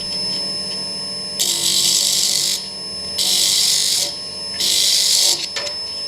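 A Clarkson tool and cutter grinder running with its guard fitted, a steady motor hum broken by three loud bursts of bright, hissing grinding, each lasting about a second, close by and with no speech.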